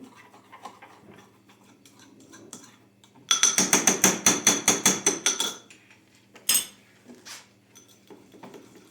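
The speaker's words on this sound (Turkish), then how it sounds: "Sonra bunları güzelce çırpıyoruz. Karıştırıyoruz." An inulin cream mixture is whisked in a bowl while making Lactobacillus reuteri yogurt: a quick run of about a dozen sharp, evenly spaced clinking strokes, then a lone knock, with quiet kitchen ambience around it.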